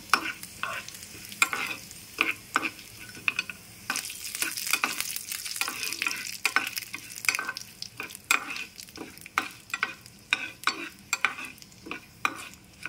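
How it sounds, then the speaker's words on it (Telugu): Spices and dried red chilies temper in hot oil for a lentil chutney, a soft sizzle punctuated by frequent sharp crackles and pops and light stirring clinks, with no talk. "ఈ విధంగా తాలింపు పెట్టుకోవాలండి పప్పుల చట్నీకి."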